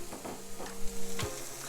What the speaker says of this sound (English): we'll go ahead and saute up our vegetables